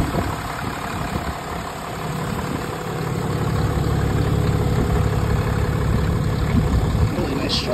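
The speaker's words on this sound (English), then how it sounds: "Nice deep turbo diesel engine." A 2022 Ram 3500 turbo diesel pickup truck idles steadily nearby, its deep engine rumble holding constant and growing slightly louder partway through.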